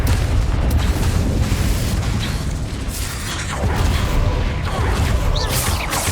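Confringo fire spell blasts in the Hogwarts Legacy video game, a dense, continuous roar of booming explosions and crackling impacts that stays loud throughout, with no talking.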